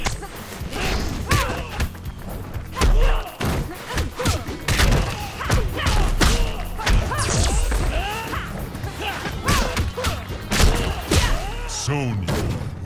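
Hits and blows in a Mortal Kombat fighting game round, a dense run of loud smashes, thwacks and thuds with swishes between them, mixed with the game's announcer voice and character shouts.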